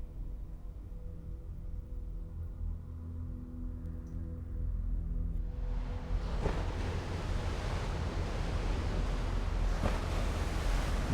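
Sea waves breaking: a low rumbling drone that swells into a broad, continuous wash of surf after a few seconds, steady and moderately loud, with no voices.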